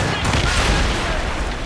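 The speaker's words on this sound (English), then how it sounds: "Brace! They're firing, sir!" Naval cannons thunder in a loud, continuous barrage during a ship battle in Assassin's Creed Rogue, with booming broadside volleys overlapping close by and no pauses.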